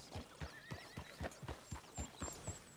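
Horse in Red Dead Redemption 2 whinnies over a steady run of clip-clop hoofbeats, with a rising neigh partway through and no voices.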